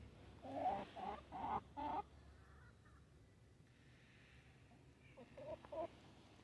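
Chickens on a homestead cluck in a short run of four quick calls, pause, then cluck again more softly, faint and nearby with quiet outdoor background.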